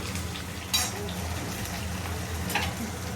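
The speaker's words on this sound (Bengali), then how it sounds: "পটলটা একটু ভেজে নেবেন, লাল লাল করে ভাজতে হবে।" Pointed gourd (potol) fries in a pan until reddish, giving a continuous soft hiss and sizzle with a couple of brief scraping bursts from stirring.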